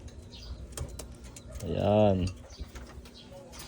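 Pigeons during free flight recall training give a single soft, warbling coo that rises and falls, with faint clicks and rustling around it and a person speaking briefly nearby.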